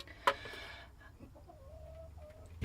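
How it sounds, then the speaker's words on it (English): A chicken clucks once, briefly and close, near the start, followed by soft tonal bird calls over a low outdoor rumble. "Chickens are still here."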